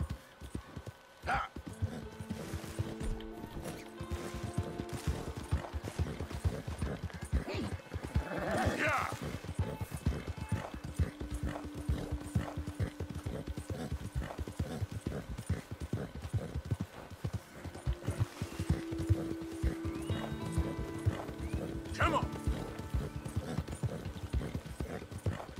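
Hooves pound in a fast, continuous gallop as a horse races along in Red Dead Redemption 2, with a loud whinny early on and another near the end over the steady drumming.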